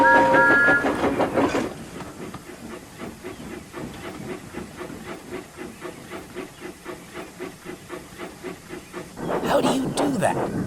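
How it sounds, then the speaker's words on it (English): A cartoon steam engine backing its train down a branch line, with a steady rhythmic chuffing and clickety-clack running throughout, louder hissing bursts of steam at the start and end. "he was surprised to see Thomas backing the train down the branch line"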